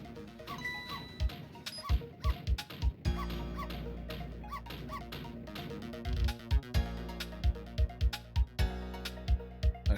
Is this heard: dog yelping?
yes